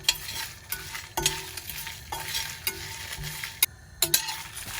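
Red chili and spices roasting for sambar in a pan give a quiet sizzle broken by repeated scrapes and stirring clatters at an uneven pace, with no talking.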